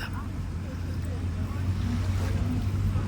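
Steady low engine drone of many tourist boats on open water at El Nido, Palawan, with wind and lapping waves forming a continuous rumble throughout.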